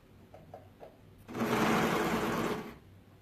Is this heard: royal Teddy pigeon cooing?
no